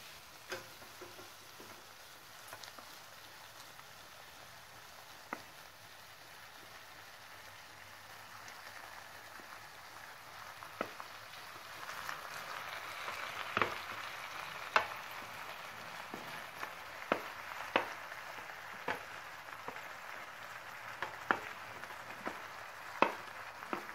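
Boiled pasta tumbles into a sizzling pan of veg pasta sauce and gets stirred, a steady low frying hiss with scattered clicks and scrapes that grow busier and louder in the second half.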